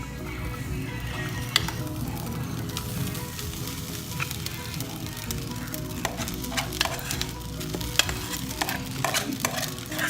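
An egg fries in a hot pot with a continuous bright sizzle, while a utensil stirs and scrapes with scattered clicks and taps throughout. No one speaks.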